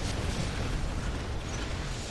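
In the War Robots game, a rocket strikes a drone shield, heard as a dense, loud burst of explosive rumble and crackle filling the whole moment with no voices.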